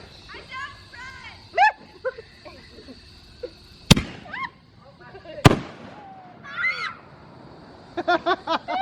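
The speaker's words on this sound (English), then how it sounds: "We got a gigantic smoke bomb." A gigantic smoke bomb set off outdoors at a birthday celebration in a garden, giving two sharp loud bursts a second or so apart amid children's shouting, talk and bird chirps.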